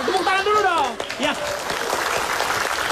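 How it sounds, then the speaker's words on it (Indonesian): A studio audience at an Indonesian comedy talk show breaks into applause, a dense wash of clapping that follows a brief spoken voice. "Tepuk tangan dulu dong."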